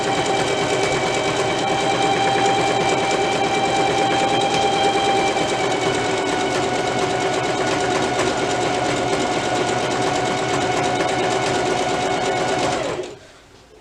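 A home sewing machine stitches continuously at a steady, fast, even rhythm, loud and close, before stopping abruptly at the end.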